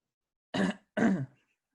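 Two short, rough coughs or throat-clearings from a man, close and distinct, separated by a brief pause with silence around them.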